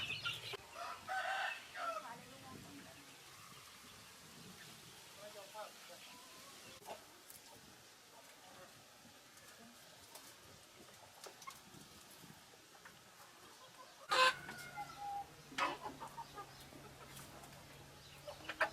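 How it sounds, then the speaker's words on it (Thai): Jungle fowl (wild chickens) on a smallholding in Satun, Thailand, crow and cluck at a distance, with a brief louder crow near the end, while people talk outdoors. "ไก่ป่า"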